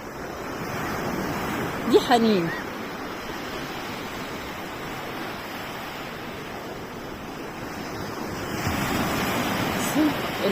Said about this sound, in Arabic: البحر بالموج بالصوت حاجة رهيبة.